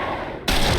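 A single loud gunshot in the video game The Sinking City bursts in abruptly near the end, after a short stretch of low ambient rumble.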